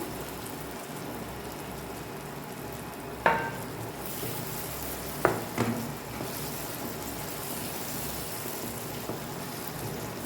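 Curry leaves go into softened onion and tomato frying in a pan for mushroom masala, giving a quiet, steady sizzle marked by a couple of sharp clinks of the stirring spoon against the pan.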